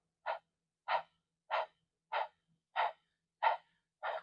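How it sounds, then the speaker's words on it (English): Rapid, rhythmic breaths pushed out through the nose during a yoga breathing exercise, seven short sharp puffs about every two-thirds of a second, close and alone in a quiet room. "we're just going to think about panting like a dog"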